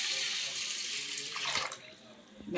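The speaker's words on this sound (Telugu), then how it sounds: "ఇప్పుడైతే మనం వాటర్ పోసేసి" Water pours steadily onto washed urad dal in a vessel, a bright continuous splashing rush that runs for over a second and a half, then tapers to a quieter trickle with a soft clatter at the end.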